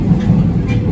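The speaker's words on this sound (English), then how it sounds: "we here on the train." A moving train heard from inside the car gives a steady low rumble and rolling hum that stays even and fairly loud through a short stretch.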